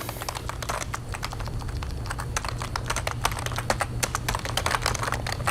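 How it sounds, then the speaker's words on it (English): Rapid, steady computer keyboard typing, close and fairly quiet, with a low constant hum underneath. "That's my keyboard, by the way."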